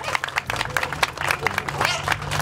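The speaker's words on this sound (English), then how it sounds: "I want to give her a good round of applause" Crowd at a sculpture unveiling at the Wellesley Free Library breaks into applause, a brief burst of close, busy clapping with voices murmuring underneath.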